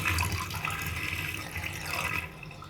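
Water poured from a small glass into a clogged bathroom drain, a short splashing gush that runs steadily for a couple of seconds before stopping.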